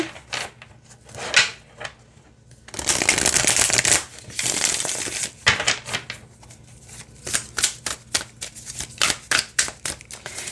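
An anime tarot deck of flexible cards is shuffled by hand, with a long riffling burst followed by a quick series of crisp card flicks and taps, close and clear.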